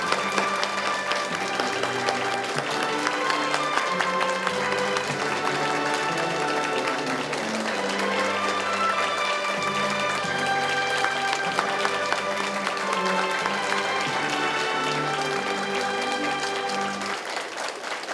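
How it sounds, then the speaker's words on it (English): A large audience at the 57th All Japan ECC English Speech Contest national final gives a long, continuous round of applause for the contestants, with background music or tones sounding steadily beneath the clapping. "Let us express our appreciation once more with a heartfelt round of applause"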